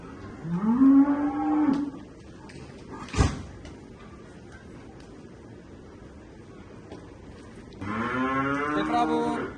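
Cattle on a dairy farm, with a newborn female calf among them, let out two loud drawn-out moos, one at the start and one at the end, with a brief knock or door bump between them and quiet barn ambience in the gap.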